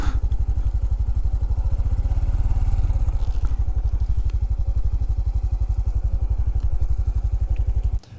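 A Honda CT125 motorcycle idles close by while being parked, its engine putting out a steady, rapid low thumping with light mechanical clatter until it cuts off at the end.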